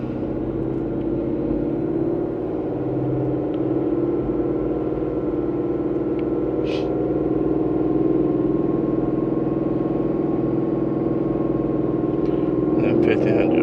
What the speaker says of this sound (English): now let's rev it to 1500 RPM as they requested for 30 seconds